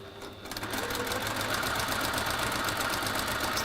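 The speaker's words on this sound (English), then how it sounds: "before I actually sew it" A sewing machine stitching rows of fabric together, a steady, fast mechanical whir with rapid needle ticks that starts up and runs continuously at an even pace.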